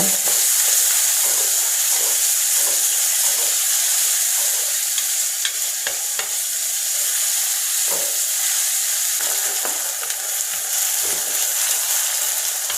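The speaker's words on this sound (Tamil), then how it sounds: "வெங்காயத்தையும் பச்சை மிளகாயும் நல்லா வதக்கிக்கோங்க" Onions and green chillies sauté in a pan for an egg gravy, a steady close sizzle running throughout with light, irregular stirring taps and scrapes over it.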